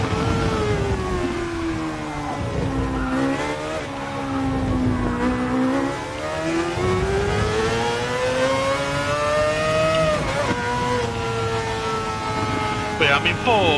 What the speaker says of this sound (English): Holy cow, that car is loud.